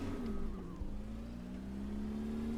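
Game car in Brick Rig running flat out on a test track, a steady sustained engine drone with a slight pitch dip near the start, then holding an even high whine throughout.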